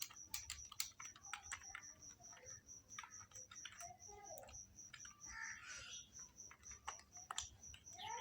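Fast, irregular keyboard typing in bursts of crisp clicks, close and fairly quiet, with a faint steady high tone in the background and no talk.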